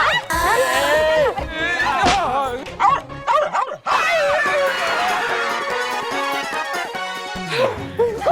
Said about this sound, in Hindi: तुम्हारी हिम्मत कैसे हुई घर में कुत्ता लाने की?